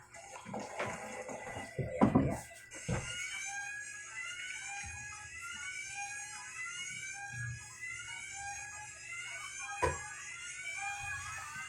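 A high, warbling electronic alarm tone sounds continuously, with clattering and knocking noises nearby early on.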